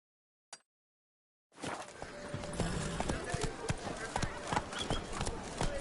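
Roach the horse galloping in The Witcher 3: Blood and Wine, a brief click then a rapid, steady clip-clop of hooves that starts abruptly and continues at close range under a spoken voice.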